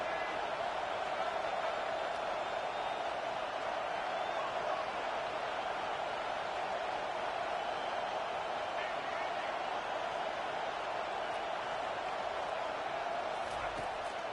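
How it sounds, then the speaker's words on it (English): A broad, steady roar of a stadium crowd rises behind the defense on third down in the NCAA 25 college football video game, a dense continuous wash of noise that stays level throughout. "Decibels rising as the crowd gets behind this defense on third down"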